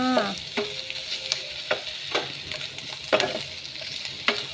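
Chinese sausage fries in a dry pan with no added oil, rendering its own fat: a continuous crackling sizzle with sharp pops and occasional utensil scrapes as it is stirred.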